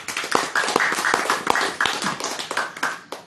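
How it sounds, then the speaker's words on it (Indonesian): Audience applause after a religious sermon, a dense burst of many hands clapping close and loud throughout, with no talk over it. "Tepuk tangan."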